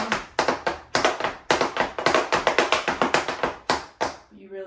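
Tap dance steps on a portable metallic dance board ring out as sharp, bright clicks in quick irregular runs, close and loud, stopping abruptly near the end.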